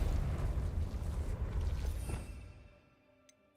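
In the video game Hogwarts Legacy, a Confringo fire spell bursts in a loud, rumbling whoosh of flame that lingers for about two seconds and then fades into near silence, with a faint tonal game sound at the end.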